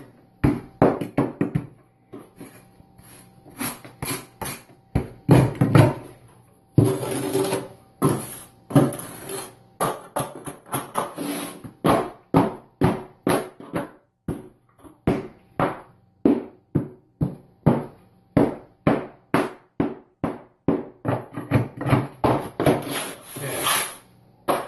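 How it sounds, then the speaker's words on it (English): A steel trowel repeatedly scoops and slaps sand-cement mortar mud while packing a shower floor mud bed, giving a steady run of sharp, close scraping thuds with no talking. "Use your trowel as like a shovel."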